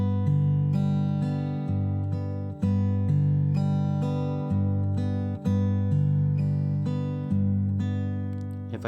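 Steady fingerpicked guitar pattern from O Holy Night, mixing thumb and finger notes in an ascending figure, ringing clearly and alone at moderate, even loudness.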